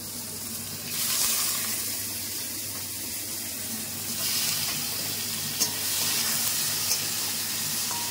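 Tomato frying in a pan with panch phoron and dried chilli for chutney sizzles close and steady, with gentle swells and a few sharp pops.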